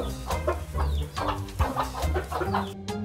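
Chickens cluck repeatedly in a cartoon farm scene, with overlapping bird calls, moderately loud and close, and a brief drop to near silence at the very end.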